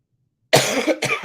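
Two loud, close coughs in quick succession break out of silence, the second following right after the first.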